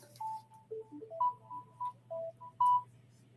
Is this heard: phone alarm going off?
yes